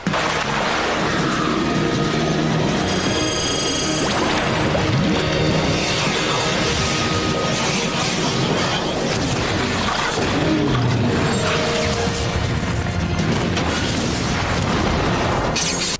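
Explosions with drawn smoke and fire in the animated series W.I.T.C.H., loud dense booms and crashes layered with music, running continuously throughout.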